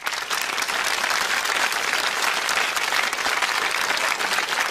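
Studio audience applause on a TV word-game show, a dense, steady roar of many hands clapping at full volume throughout, with no voices over it.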